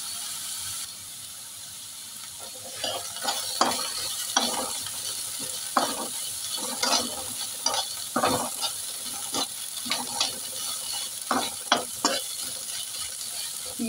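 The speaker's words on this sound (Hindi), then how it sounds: "पिंक होने तक प्याज को भून लेंगे।" Onions frying in a 25-30-year-old iron kadhai, stirred with a utensil: soft background sizzle broken by irregular scraping clinks and knocks of the spoon against the metal, close by.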